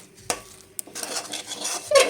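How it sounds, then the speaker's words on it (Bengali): Rice flour is stirred into a mixture in a bowl for palm-fruit chushi pitha, giving two sharp utensil clinks and then a stretch of soft, close scraping and mixing with a brighter scrape at the end. "ভালো করে মিশিয়ে নেব।"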